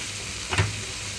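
Tender tamarind leaves cooking in a pan over a low flame give a soft, even hiss, with one brief scrape from a spoon partway through.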